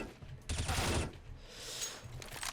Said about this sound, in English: Let me just pull out that M4A1S for some sweet, sweet nostalgia.